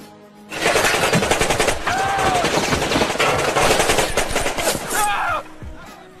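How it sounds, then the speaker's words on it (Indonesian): Rapid bursts of gunfire from a makeshift gun, a dense loud rattle of shots running continuously for several seconds in a film scene, with faint voices underneath. "seorang penjaga menggunakan senjata amatiran, hingga peluru itu muncrat bebas dan menyebabkan mereka tiarap dengan segera"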